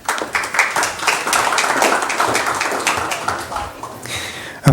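Audience applause at a Morro Bay, California city council meeting, a steady patter of many hands clapping in a room, tapering off near the end, with a voice speaking briefly over it.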